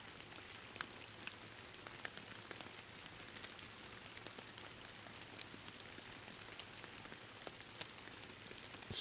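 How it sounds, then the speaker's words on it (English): Rain falls steadily in the video game Fishing Planet, a soft, constant patter of drops hitting surfaces with scattered sharper ticks, quiet and even, with no voices over it. "I just love the rain sound. It sounds so good."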